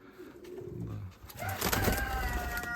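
Pigeons coo in an outdoor aviary in Mykolaiv breed country, a few low throaty calls rising and overlapping, fairly close, with a rustle of movement and background ambience.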